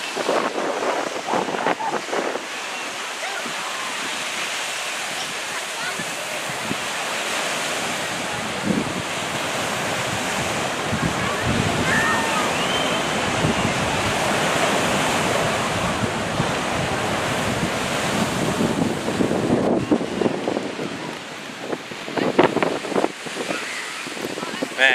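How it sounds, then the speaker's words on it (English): Strong wind buffets the microphone during a roadside stop on a motorcycle ride along US 12 in Michigan, a steady roaring rush that lasts throughout with gusty swells and no talking. "It might pick up a lot of wind. It's pretty windy out"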